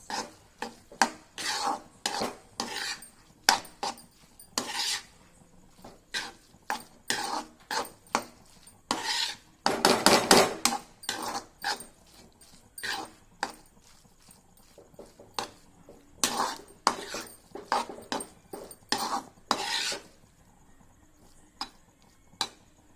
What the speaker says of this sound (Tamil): எல்லாத்தையும் இந்த மாதிரி மிக்ஸ் பண்ணிக்கோங்க.